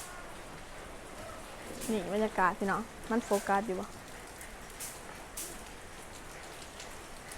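Steady rain falls on surfaces outdoors in a rural Lao setting, a constant close patter throughout. Someone talks briefly over it midway.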